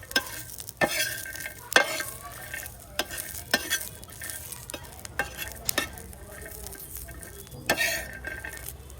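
Green chilli thecha ingredients, peanuts among them, roasting in a pan, with repeated spatula stirs and scrapes over a steady close sizzle and occasional metallic clinks.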